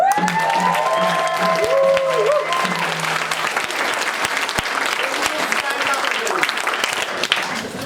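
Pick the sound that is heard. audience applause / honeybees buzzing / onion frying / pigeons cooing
audience applause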